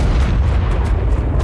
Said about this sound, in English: One damn explosion like that does a ton of tick damage.